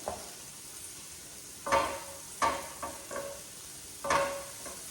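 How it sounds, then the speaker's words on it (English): Steady sizzling of tofu with cumin and garlic in a frying pan, with a few sharp clatters of stirring on top. "I don't know if you can hear that sizzling."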